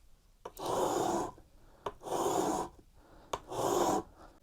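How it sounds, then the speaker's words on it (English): Mini block plane iron drawn backwards across a diamond sharpening plate, three even, gritty rasping strokes, each starting with a small click, close and clear with brief pauses between. "tilt it up, and holding a steady angle, just drag it backwards over the plate"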